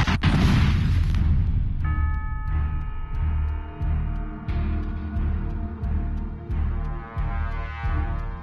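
In the film Iron Sky, a heavy explosion bursts as UFOs open fire on New York, followed by a rhythmic series of deep booming hits under a sustained tonal score, loud throughout.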